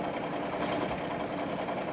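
A steady mid-pitched boat engine chugging at idle, close and continuous with a faint rhythmic knock throughout, while under way on a sailing boat.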